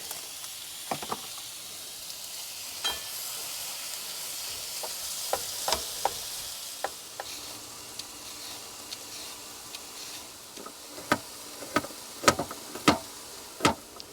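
Chicken sizzles and crackles steadily in a hot pan, with frequent sharp pops and spits growing more frequent toward the end.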